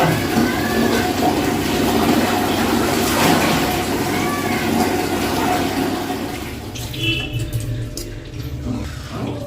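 Water runs and splashes continuously while a small child named Johnny is bathed in cold weather, loud and close, easing slightly toward the end, with faint voices in the background.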